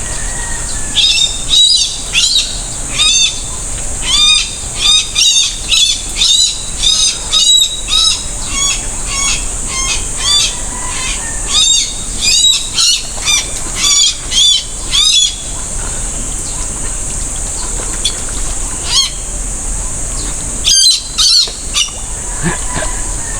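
A barred rail (tikling) calls by a pool, giving loud, repeated squawking and chirping bursts in irregular clusters over a steady high-pitched hiss of insects or water, with close, bright calls recurring throughout.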